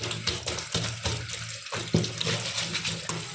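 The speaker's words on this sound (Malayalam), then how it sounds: "ഞാൻ പിന്നെ തുടത്തുണിയൊക്കെ ഇടയ്ക്കിടയ്ക്ക് കഴുകുന്നു" Water splashes and sloshes steadily as kitchen wiping cloths are swished and wrung in a basin, with intermittent louder splashes throughout.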